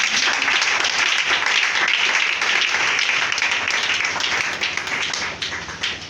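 A worship congregation claps and applauds in a continuous, dense wash of hand claps lasting several seconds, easing slightly toward the end.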